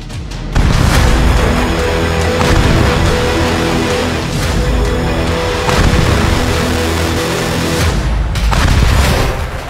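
Loud, booming blasts from Israeli air strikes on Hezbollah targets, heavy low rumbles rolling in several waves over about ten seconds with dense crackling debris noise throughout, no voices.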